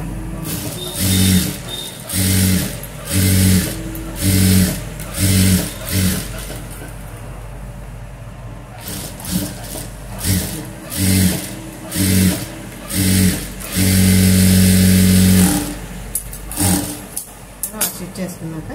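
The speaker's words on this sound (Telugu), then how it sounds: "మళ్ళీ ఒక స్టిచ్ అనేది వేసుకోండి." A sewing machine stitches a blouse in short, repeated bursts of rapid mechanical whirring, close and fairly loud, separated by pauses, with a longer run near the end; a person talks between the bursts.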